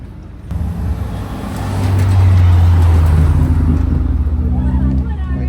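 A Mahindra Thar engine runs and drives close by at a Lonavala car race event, a steady low rumble that swells over the first two seconds and then holds loud and constant, with people talking over it.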